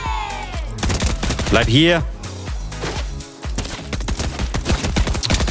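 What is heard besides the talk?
gunfire in the video game Fortnite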